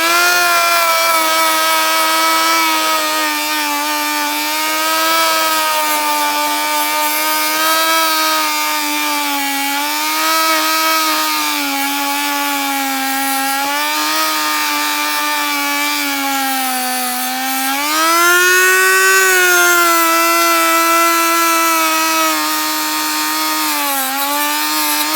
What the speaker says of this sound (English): I'm going to use the multi-tool again. Prepare for a bit of noise.